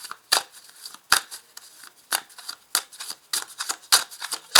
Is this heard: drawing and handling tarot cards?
yes